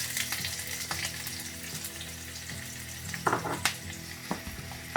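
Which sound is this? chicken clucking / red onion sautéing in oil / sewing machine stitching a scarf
red onion sautéing in oil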